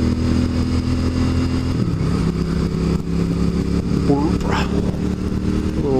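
A small-engined motorcycle being ridden gives a steady, close engine drone that climbs into a short, sharp rev near the end, with a faint voice underneath.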